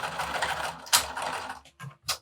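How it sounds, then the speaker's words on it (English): Sewing machine stitching around the gusset of a wristlet, a steady mechanical run of needle strokes for over a second and a half, then two short separate bursts after brief pauses. "And you are going to carefully sew around the entire gusset."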